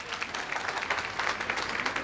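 An audience gives steady applause for a woman at an event, dense clapping from many hands sustained throughout at moderate loudness, with no clear talk.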